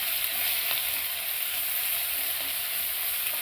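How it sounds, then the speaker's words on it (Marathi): Green chili paste sautés in hot oil with cumin and curry leaves, a dense, even hiss of frying that stays close and steady for the whole few seconds. "चांगलं परतून घ्यायचं।"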